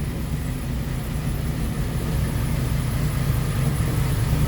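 A steady, low engine drone with a rumbling exhaust note at elevated idle through a Tanabe Touring Medallion exhaust, continuous and fairly loud, slightly echoing inside a garage.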